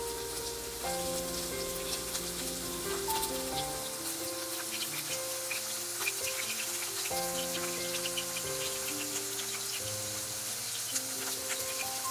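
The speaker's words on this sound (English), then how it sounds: "On medium heat, I'm frying all the chicken" Steady crackling sizzle of chicken frying in hot oil over medium heat, continuous and soft, heard beneath background music.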